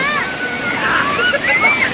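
A waterfall fed by heavy water flowing down from the hills makes a steady, loud, full rush, with a voice talking over it throughout.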